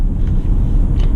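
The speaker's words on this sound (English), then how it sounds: "In my Ford F-150. Just keep on cruising down the road." A Ford F-150 pickup truck cruising along Lower Wacker Drive, heard as a loud, steady low road rumble with wind buffeting from inside the cab, no speech.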